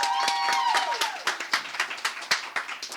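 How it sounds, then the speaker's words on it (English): Audience applause at a live High Tea event, starting as a dense round under a sustained tone and thinning into scattered individual claps that fade toward the end. "Can we get another round of applause?"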